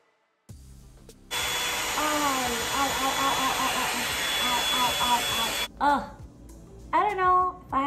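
Bed Head Blow Out Freak and Revlon One Step hair dryers blow with a loud, close, steady whoosh and whine while a person talks over them, then the noise cuts off and the talking continues alone.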